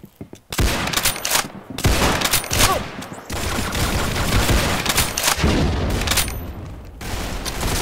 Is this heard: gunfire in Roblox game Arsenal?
yes